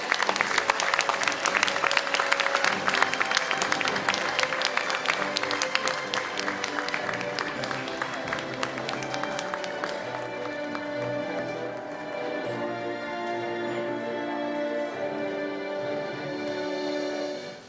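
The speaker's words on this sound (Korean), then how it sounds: "큰 박수로 맞아주십시오." A large audience at the launch ceremony of the United Future Party claps loudly and continuously. The applause gradually softens as sustained music rises beneath it in the second half.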